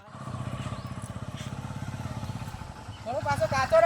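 A motorcycle chugs along an unpaved village road, its engine firing in a fast, steady pulse close by for several seconds before the revs swell near the end as a voice cuts in briefly.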